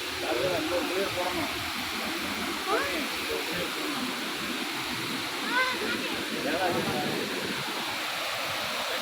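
A waterfall pours in a steady, broadband roar of rushing water that fills the whole clip without pause, with voices faintly present beneath the noise.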